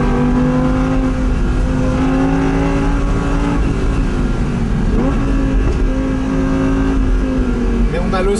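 Audi R8 V10 RWS engine droning steadily inside the car while driving on a winding road, a loud continuous mid-pitched hum with slight rises in revs, people talking over it throughout.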